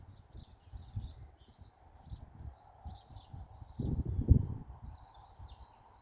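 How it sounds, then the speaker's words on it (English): Birds chirp and sing in the background of a large Norfolk wood, their faint high calls scattered throughout over low rustling and handling noise, with a louder brief thump near the middle. "Hopefully you can pick up that background of birds chirping and singing away"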